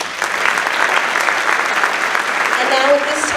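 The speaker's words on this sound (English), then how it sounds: "we'd like to give them a round of applause for being here this evening" A school auditorium audience applauds at a high school ASL honor society induction, with loud, sustained, even clapping throughout and a faint voice or whistle briefly near the end.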